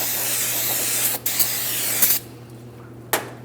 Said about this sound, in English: I'm going to use some parts cleaner and a clean rag.